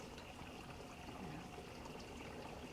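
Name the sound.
running water of a garden fountain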